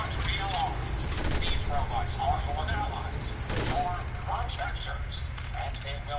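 Bursts of rapid gunfire in Fallout 4, repeated volleys cutting through a steady low rumble, with voices and other game sounds scattered underneath.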